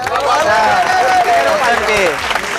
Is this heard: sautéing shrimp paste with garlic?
no